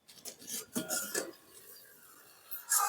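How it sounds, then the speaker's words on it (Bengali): A cooking-pot lid lifted off a pot of fully boiled rice in a Bengali home kitchen, giving a few light metallic clinks and scrapes, then a louder clatter at the end. "এবার আমি ঢাকনাটা খুলে নেব"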